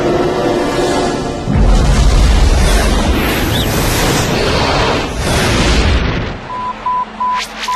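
An explosion in an animated science-fiction series rumbles loudly as a long, heavy roar of blasts and debris, then cuts away around six seconds to quieter electronic beeps and scattered after-sounds.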